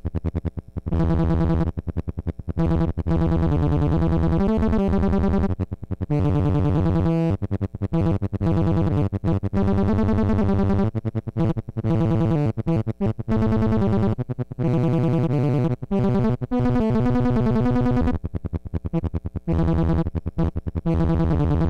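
Beginner-friendly analog polyphonic synthesizer driven by a Teensy microcontroller, built around vintage 1980s analog oscillators, playing a dense, sustained tonal passage that changes notes every few seconds, loud and continuous with no voices.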